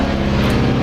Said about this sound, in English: excuse that jet flying over my feet